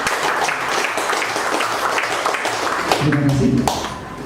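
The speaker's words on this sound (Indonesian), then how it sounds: "Silakan tepuk tangan dulu." An audience at a PT Sentral Seluler Indonesia business presentation in Sumenep, East Java applauds in a steady, full wash of clapping, with a voice starting to talk over it near the end.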